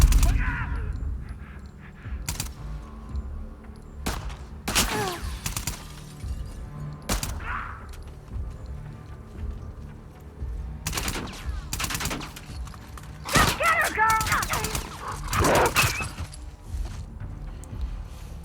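Gunfire during an ambush in The Last of Us Part 2, with sharp loud shots and short bursts scattered across a tense stretch amid crunching impacts, while someone talks at times.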